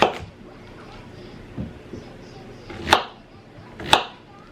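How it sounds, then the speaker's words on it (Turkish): A few sharp knife chops through zucchini on a cutting board, spaced irregularly, with quieter taps in between and faint background noise. "Bu kabağı böyle kesiyorum"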